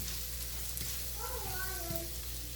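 Prawn karahi frying in a pan, a dense steady sizzle of hot oil with a few stirring scrapes and a brief faint voice.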